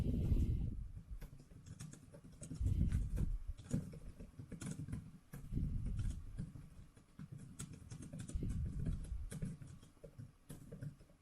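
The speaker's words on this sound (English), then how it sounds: "I'll go into Microsoft Word and do some typing." Typing on a Logitech Slim Folio Pro keyboard case for a 2018 12.9-inch iPad Pro gives soft, cushioned key taps in quick, irregular bursts, fairly quiet and close, with no talking.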